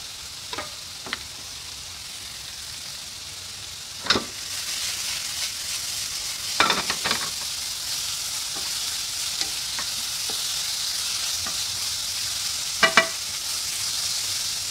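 Bitter gourd and bird's eye chili stir-fried in a new frying pan, a steady sizzle with scraping stirring strokes and a few sharp metallic clinks of the spatula, no voices.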